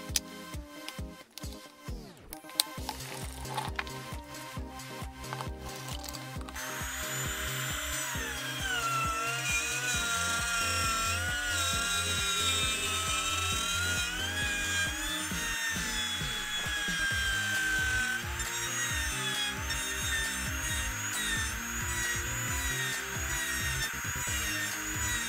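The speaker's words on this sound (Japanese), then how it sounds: "ここをベアリング付きのストレートビット、これをね、一番短いので彫っていきたいと思います。" Wood trimmer router fitted with a short bearing-guided straight bit, carving a bamboo coaster along a template held with double-sided tape. The steady, loud high-pitched whine of the motor runs continuously after a few brief starts, with no talking.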